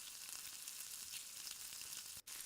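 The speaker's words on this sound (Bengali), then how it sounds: "এখন একটি প্যানে তেল গরম করে অ্যাড করে দিয়েছি আমার নোনা ইলিশের পেস্টটুকু" Salted hilsa fish paste frying in hot oil over medium heat: a dense, even crackling sizzle that holds steady throughout, close and moderately quiet, with one brief dropout near the end and no voices.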